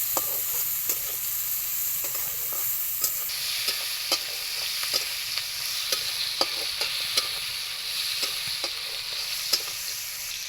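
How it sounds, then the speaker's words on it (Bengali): Shrimp seasoned with salt and turmeric sizzle steadily in a hot pan, with scattered sharp clicks and scrapes of a utensil stirring them throughout; close and continuous, no talking. "চিংড়ি মাছটা আমি ভেজে নেব।"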